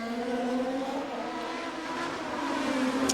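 Formula 3000 racing cars at Monaco in 2002 sound as a sustained high-pitched engine whine echoing through the street circuit, steady and moderately distant.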